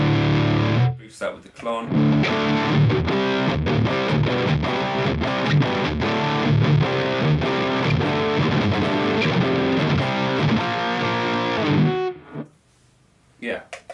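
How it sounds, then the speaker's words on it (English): A heavily distorted, fuzzy electric guitar through a Line 6 Helix Dual Rectifier amp model plays a riff for several seconds, loud and saturated, ending abruptly; a voice speaks briefly at the start. "that's got kind of like a massive fuzzy tone"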